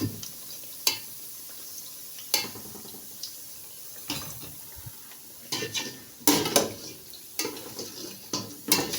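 Small pieces of meat frying dry in a pot for Nigerian party jollof rice, a low sizzle under repeated clanks and scrapes of a utensil against the pot, close up with no speech.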